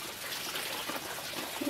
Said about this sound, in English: This is how I wash my fabric.